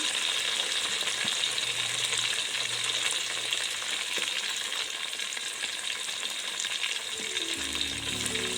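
Onions, tomatoes and ginger paste fry in a pan for coconut rice, a continuous close hiss of sizzling oil with faint stirring, and a low hum rising near the end, no talking.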